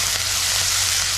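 Onion sizzles steadily and close in a hot pan for a Konkan-style cabbage and chana dal bhaji, with a continuous frying hiss and no talking.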